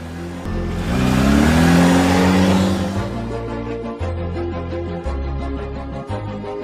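A car engine revs up loudly in a rising surge, then settles into a steady droning run with shifting tones.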